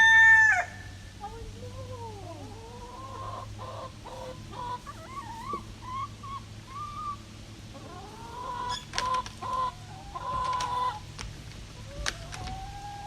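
Chickens cluck and call in a backyard flock, a series of rising and falling cackles and short clucks of varying loudness, with a sharp burst at the start and busier calling near the end.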